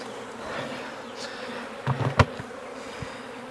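Honey bees swarm and hum steadily around an open hive, a close, continuous buzzing drone with a few brief louder passes of individual bees.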